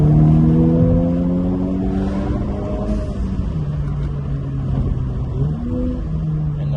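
A Subaru BRZ or Honda Civic Type R engine revs and accelerates, with rising and falling tonal whine from a spooling turbo over steady road rumble, loud and close throughout.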